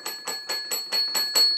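A small bell rings rapidly seven times in a steady rhythm, each strike bright and metallic with a short shimmering ring, close and clear with no talking.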